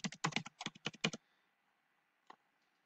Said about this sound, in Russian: Сейчас пароль введу.